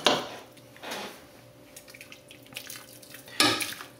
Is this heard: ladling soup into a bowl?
yes